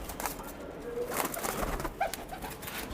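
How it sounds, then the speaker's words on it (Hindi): Malwai Punjabi pigeons cooing at a pigeon keeper's loft, soft low coos rising now and then from a steady background hiss, fairly faint and close with no talking over them. "ये मलवाई पंजाबी कबूतर है दोस्तों"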